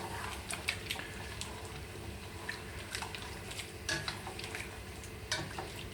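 A spoon stirs Marmite into a vegetarian Quorn fillet stew in a pan, giving soft scraping strokes over a gentle, steady simmer and sizzle, heard close up with no talking.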